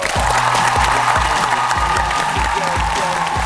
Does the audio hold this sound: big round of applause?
yes